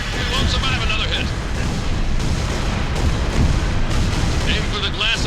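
In the Halo Reach video game, a Covenant cruiser fires its weapons amid explosions, a loud continuous roar of booming blasts with high whining bursts near the start and end.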